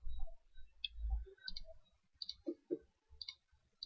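Several crisp mouse clicks sound near and fairly quiet, spaced irregularly over a low background hum.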